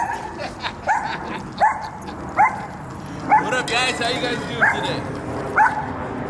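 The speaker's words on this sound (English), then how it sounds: "We're getting the little dog riled up" A small dog yips and barks repeatedly in a yard, sharp high barks coming in an uneven series about a second apart, with someone talking over them.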